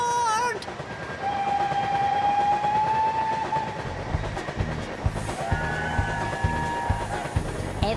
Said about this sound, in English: Maddie, we seem to be on board some kind of a train.